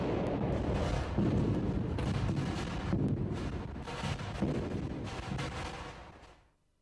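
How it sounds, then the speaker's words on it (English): Explosive charges blasting rock in quick succession inside a road tunnel, a run of heavy rumbling booms with repeated sharp cracks, sustained for several seconds before fading out. "The rock is blasted out and, in quick succession, the other series of charges are detonated."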